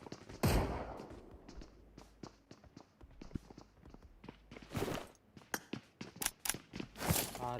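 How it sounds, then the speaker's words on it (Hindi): Gunfire in the BGMI battle royale game, a dense string of sharp cracks and bursts with scattered rapid reports, footstep-like taps and a louder flurry of shots near the end. "उसने मेरे पे फायर किया"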